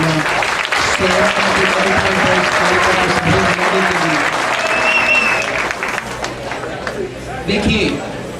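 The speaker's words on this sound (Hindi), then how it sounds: "तालियां बजाकर आप अपना स्वागत" Sustained audience applause at a college fest opening, loud and dense clapping with crowd chatter and shouts mixed in, easing slightly toward the end as voices rise over it.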